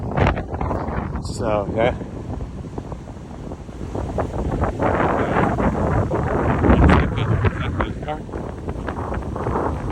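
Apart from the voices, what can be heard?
strong wind at the beach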